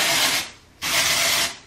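Aerosol texture spray hissing onto hair roots in two close, steady bursts, the second a little longer, each with a sharp start and stop.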